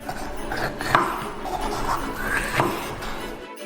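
A knife cuts through charred, peeled Bulgarian pepper on a board, a few scraping slices and taps against the surface, close and fairly clear with no talk.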